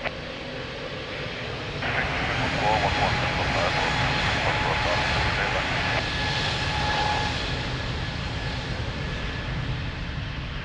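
Airplane taking off at Lisbon airport, a broad steady engine roar swelling after a couple of seconds and holding loud and near, with tower radio chatter running over it.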